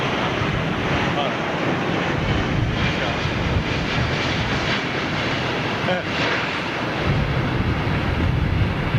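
Jet airliner landing at London Heathrow, a loud, broad roar rushing steadily throughout with wind buffeting the microphone.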